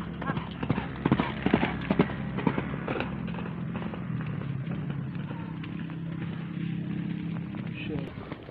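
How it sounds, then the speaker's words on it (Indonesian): Horses walking after training for a traditional Gayo horse race, with clear clip-clop hoofbeats nearby that are strongest early on and then fade. Voices talk in the background. "ini kuda yang sudah selesai latihan guys"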